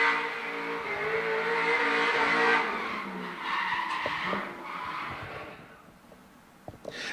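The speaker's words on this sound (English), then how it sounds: "behind the wheel of a V8 powered S15" V8-powered Nissan S15 drift car in competition: loud sustained tire squeal with a droning engine note, fading toward the end.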